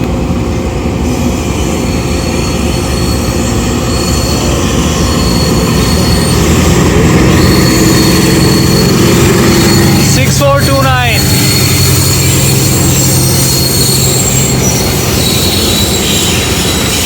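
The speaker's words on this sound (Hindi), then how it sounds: "चाइनीज़ लोकोमोटिव ZCU20 की लाइट्स, ब्यूटीफुल विसल, फार स्वीटर दैन GU20" A Chinese ZCU20 locomotive train running on the rails in Pakistan, with a loud, continuous rumble of wheels and a sharp metallic squeal partway through, heard from close by.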